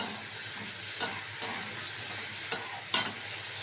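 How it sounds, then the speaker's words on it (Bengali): Vegetables for a rohu fish curry with ridge gourd, pointed gourd and potato sauté in a pan with a little water, giving a steady low sizzle and hiss broken by a few sharp stirring scrapes. "দিয়ে সামান্য একটু জল দেব, দিয়ে সবজিটাকে কষিয়ে নেব।"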